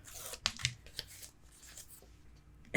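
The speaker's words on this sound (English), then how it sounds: "what you're going to do is take just a little bit of the tape off" Tape strip peeled from its backing while making a Stamperia Garden of Promises paper mini album, a few sharp crackly rips close by and quiet, with no talking.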